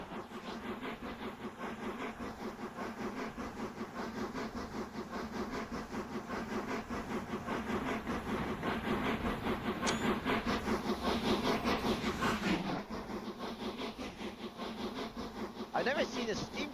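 A steam locomotive in a train simulator game, pulling a single MK1 coach, chugs steadily with a continuous rhythmic exhaust over a dense mechanical rumble, loud and close throughout.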